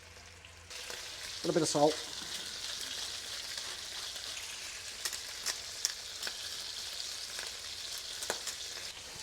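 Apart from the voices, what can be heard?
coral trout pieces frying in melted butter with ginger and garlic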